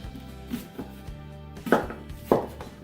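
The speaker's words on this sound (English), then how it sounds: "we're just gonna chop up some of these vegetables" Vegetables, including an onion, being chopped with a knife on a board, heard as a few irregular close thuds, with two louder, sharper chops near the end and no talking.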